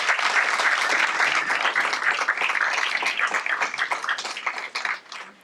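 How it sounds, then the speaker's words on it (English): Applause at a school district board meeting honoring a coach and his runners, a loud, dense burst of many hands clapping that thins and tapers off toward the end. "let's give Coach Branch and his runners a round of applause"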